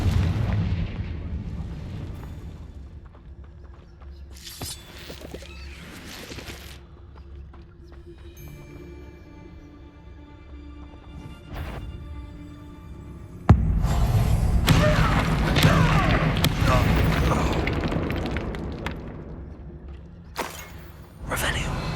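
Confringo fire spell blasts in the Hogwarts Legacy game, a booming explosive burst that erupts loudly midway and rumbles on for several seconds, with quieter magical crackles and swells before it and a final sharp hit near the end.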